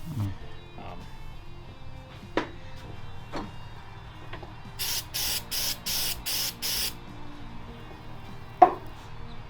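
Super glue activator sprayed onto wood on a custom five-string bass build: a quick series of about six short, sharp hissing bursts, with scattered clicks and taps before and after.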